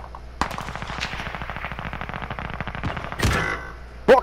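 Rapid automatic gunfire in Call of Duty: Modern Warfare, a long loud rhythmic burst of evenly spaced shots, followed by a heavier blast and a final sharp crack near the end.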